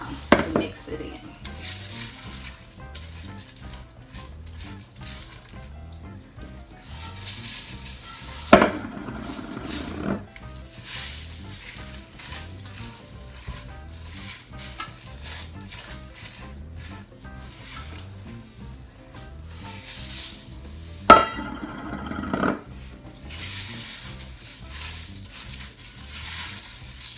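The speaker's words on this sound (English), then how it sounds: "start adding our corn flakes in. About a cup at a time to mix it in" Corn flakes stirred a cup at a time into a sticky peanut butter mixture, with a steady rhythmic scraping and crunching of a spoon against a pot, plus two louder rattling bursts as more flakes go in.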